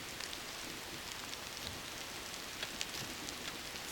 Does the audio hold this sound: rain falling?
yes